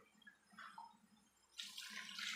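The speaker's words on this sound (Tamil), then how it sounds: "ஒரே ஸ்பூனு பாசி பருப்பு சேர்த்துட்டு தண்ணி தாராளமாக சேர்த்திக்கலாம்." Water is poured onto moong dal in a kitchen vessel for pongal, a faint trickle first and then a louder splashing gush near the end, quiet overall with a low background hum.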